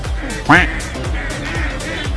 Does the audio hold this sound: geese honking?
yes